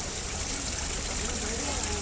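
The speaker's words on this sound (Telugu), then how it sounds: "ఇది న్యాచురల్ వాటర్ చూడండి" Natural spring water flows at Chilakala Gutta near Medaram, a continuous close hiss of running water with faint voices beneath.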